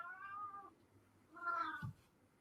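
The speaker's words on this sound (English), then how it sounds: "Oh, my cat." A house cat meows indoors, two drawn-out, clear meows close by with a short pause between them, followed by a soft low bump.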